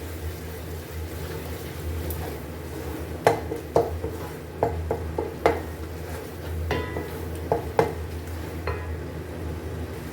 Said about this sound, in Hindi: इसमें जो हमने हरा प्याज कट किया था वो इसमें हम ऐड कर लेंगे और इसको भी हमने भून लेना है